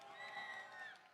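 Crowd at a FIRST Tech Challenge robotics championship in a large hall cheering for the Blue Alliance, a brief sustained roar of shouts and whoops at a distance.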